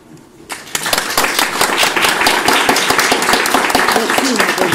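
A room of listeners at a book-shop reading marathon breaks into sustained applause after a reading. The clapping is dense and fairly close and keeps up at an even level throughout, with some voices mixed in.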